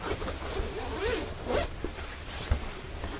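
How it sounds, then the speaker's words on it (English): A zipper pulled several times to detach a removable layer from a three-layer jacket, with short rasping zips close to the microphone. "So I'm going to go ahead and zip off the first layer."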